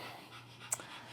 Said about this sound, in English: He's down here panting.